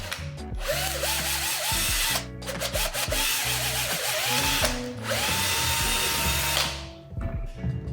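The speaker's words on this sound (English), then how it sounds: "I will use my drill and use the exact same drill bit as I used initially to drill the aluminum bars" A power drill bores through a marked point on an aluminum bar, using the same bit as before, with repeated close, loud whirring bursts that rise and cut off between short pauses.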